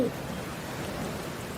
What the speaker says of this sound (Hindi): बारिश में भीगने से तुम बीमार पड़ जाओगे